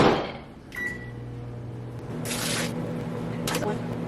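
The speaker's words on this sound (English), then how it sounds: "I'm just gonna soften it in the microwave" A microwave oven runs with a steady low hum to soften food in a kitchen during a blizzard, with a few faint clatters and rustles nearby.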